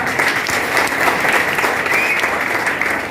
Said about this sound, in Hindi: अच्छा, कुछ लोगों की ताली बज रही है